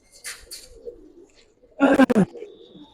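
Female pigeons at a pigeon seller's loft give soft, low coos in short bursts, near and fairly quiet, broken by a loud burst of a voice talking over them.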